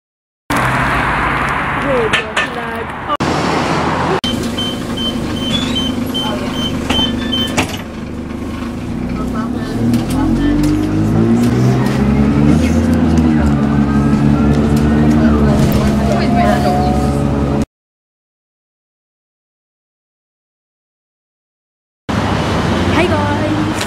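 Road traffic passing a city bus stop, a bus engine rumbling and shifting pitch as it pulls in, with people talking over it, followed by a sudden silence and then the noise resuming.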